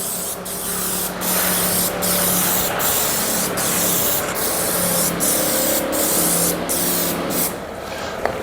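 Aerosol spray paint hisses over small Jaguar XKR car parts in a barn, a steady close loud spray broken by brief pauses at regular intervals, with no talk.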